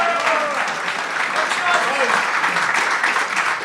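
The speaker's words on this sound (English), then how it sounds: "Give yourself a round of applause." Studio audience applause at a live Edinburgh comedy show recording, a steady wash of clapping from a small crowd with voices faintly audible underneath.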